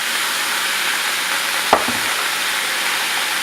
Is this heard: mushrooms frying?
yes